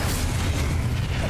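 Hogwarts Legacy spell casting produces a dense, rumbling explosion with a continuous booming roar that stays loud and sustained across the short span, with no speech.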